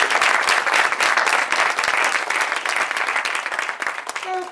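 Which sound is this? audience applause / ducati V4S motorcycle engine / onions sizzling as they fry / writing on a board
audience applause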